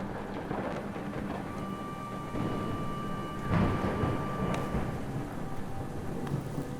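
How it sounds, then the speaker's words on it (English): Stormy weather in the god game Universim, with steady rain hiss and low rolling thunder swelling in the middle, a continuous ambient wash with no voices. "Oh, another thunderstorm is coming in."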